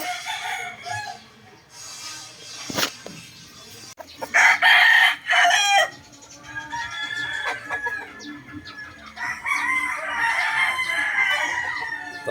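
A broodcock rooster crows loudly and close several times, with clucking from other fowl in between and a backyard setting behind.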